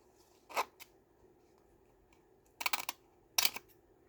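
Scissors snip through paper for a grungy library card pocket: one short cut, a pause, then two quick clusters of crisp snips, close and fairly quiet against a near-silent room.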